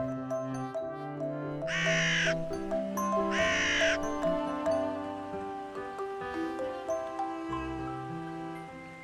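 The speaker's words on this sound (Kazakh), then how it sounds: "ворона." A crow caws in two loud, harsh bursts near the start, set against a layered musical backing that plays throughout.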